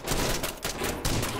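Rapid gunfire in the video game SCP: Pandemic, dense continuous bursts filling the whole moment, loud and close with brief dips between volleys.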